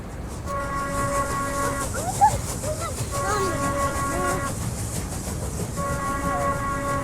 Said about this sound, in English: It's a real train.